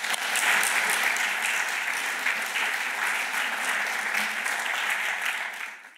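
A large audience claps steadily to welcome a speaker onto the stage, a dense, even wash of applause that holds for several seconds before tapering off at the end.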